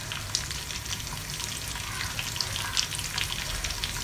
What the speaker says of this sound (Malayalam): ചെറിയ തീയിലിട്ട് ഇങ്ങനെ ചെറുതായിട്ട് ഇളക്കി കൊടുത്ത് ചൂടാണ്, നന്നായിട്ട് ചൂടാക്കി എടുത്താൽ മതി.